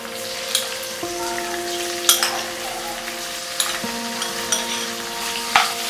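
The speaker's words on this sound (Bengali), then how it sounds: "আর যতটা পারবেন এই চিংড়ি মাছগুলো হাই ফ্লেমে ভাজার চেষ্টা করবেন।" Shrimp sizzle and fry in hot oil over a high flame, a steady close crackle with a few sharp spatters and faint utensil clinks, no voices.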